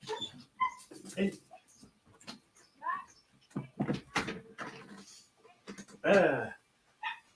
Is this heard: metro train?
no